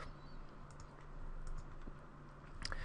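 Typing on a computer keyboard, a quiet run of soft, uneven key clicks close by, with no talking.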